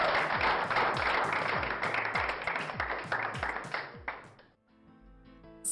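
Audience applause rings out at a ceremony crowning a contest winner, loud and steady for about four seconds before fading, then music takes over.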